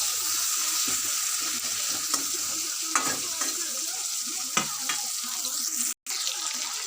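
Tomato frying in a pan for a fish and drumstick kaliya, a steady close sizzle with intermittent clicks and scrapes of stirring, and a brief gap near the end.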